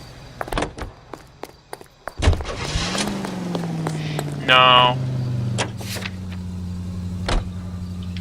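In the video game LA Noire, car doors clunk shut and an engine starts and settles into a steady idle, with scattered clicks and a short voice heard along the way.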